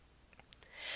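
A single sharp mouse click on the New Slide option in Keynote, brief and close, preceded by a couple of faint ticks and followed by a rising soft hiss.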